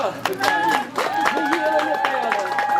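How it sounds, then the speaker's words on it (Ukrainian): Guests at a modern Ukrainian wedding clap steadily to welcome the newlyweds, the rhythmic applause blending with live band music and voices in a lively hall. "просимо вас, гості дорогі, оплесками зустріти нашу молоду пару"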